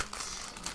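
Thin shrink wrap crinkles steadily while being pulled off a new Jelly Comb KUS015-2 keyboard during unboxing, a close, continuous papery rustle with small crisp spikes and no talking.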